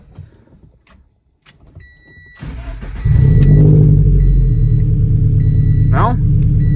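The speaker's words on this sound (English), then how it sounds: "now put the key back in and start the car" A key starts the engine of an 86 sports car that has wiring faults. After quiet clicks, the starter cranks briefly, then the engine catches into a loud, steady idle with a short rising whine near the end, and voices talk over it.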